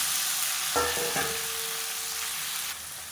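Five finely chopped tomatoes hit hot oil in a kadai, a steady sizzle that swells as they drop in and then settles into a continuous frying hiss, close and alone.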